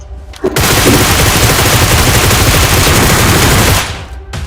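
Rapid sustained automatic gunfire in the battle royale game BGMI, a loud dense burst running for about three seconds before cutting off, with no talk over it.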